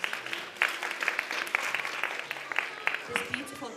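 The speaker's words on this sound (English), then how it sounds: "Can we give them all a round of applause, please?" A hall audience applauds after a children's dance at an Easwaramma Day celebration, brisk continuous clapping with sharp individual claps standing out.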